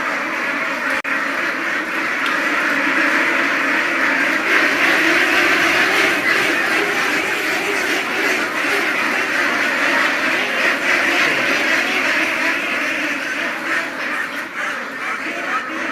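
A flock of Pekin Star 13 hybrid broiler ducks quacks in a dense, continuous chorus on a farm. The chorus is loud and steady throughout, with no talk over it.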